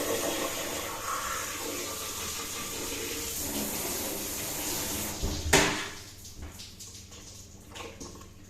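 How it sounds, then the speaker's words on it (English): Tap water running steadily while a turkey cavity is rinsed out, a continuous splashing hiss close by that surges briefly and then drops to quieter trickles and drips. "So we're going to put in a bit of water, clean out the lungs, and clean everything out then nice and clean inside."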